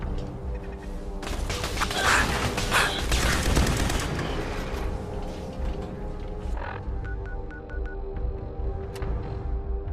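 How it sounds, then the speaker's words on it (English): Rapid bursts of gunfire in the post-apocalyptic game Fallout 4, a dense loud volley for a few seconds that thins into scattered shots and sharp hits under a steady game ambience. "What was shooting at me?"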